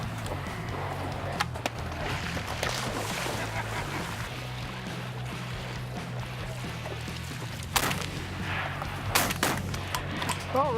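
Gunfire during a hunt outdoors: a few sharp, loud reports stand out over a steady low rumble, with people talking quietly nearby.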